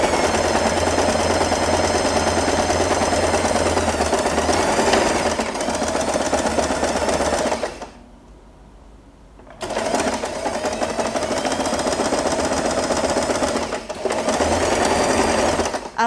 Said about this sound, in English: So with the back sides together, I will also sew this part to get a long strip of fabric.